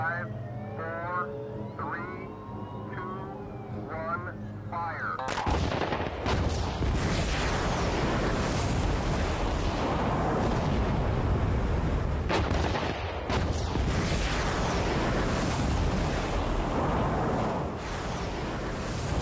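A controlled explosive demolition of a structure at the Sellafield nuclear site erupts suddenly after a stretch of distant tonal sound, then rolls into a long, heavy, sustained rumble of collapsing debris heard from afar.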